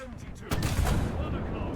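A tank cannon booms in War Thunder, one heavy blast bursting in mid-clip and rumbling on afterward, loud and close, with a few faint earlier thuds.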